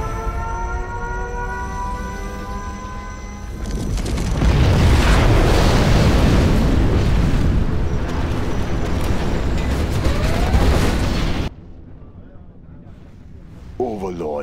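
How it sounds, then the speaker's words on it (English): A nuclear missile explosion in the Command & Conquer Generals Zero Hour video game: a voice line first, then a loud, sustained rumbling blast that roars for several seconds before cutting off abruptly. "We have launched our nuclear missile."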